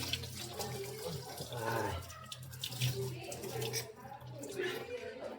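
Water runs from a tap and splashes as someone washes their face, a steady close wash of sound with a low hum beneath and people talking over it.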